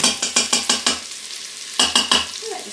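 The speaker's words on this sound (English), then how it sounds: "Okay, so I stirred around my tomato paste." Tomato paste stirred in an Instant Pot, browning as it cooks: a run of regular scraping strokes, a short pause, then three more, all close and fairly loud over a soft sizzle.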